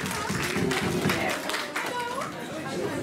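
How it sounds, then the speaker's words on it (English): A crowd claps through a round of applause at a comic con cosplay contest in Cleethorpes. The clapping is steady and mid-distance, with chatter and a voice over the top. "Round of applause, please."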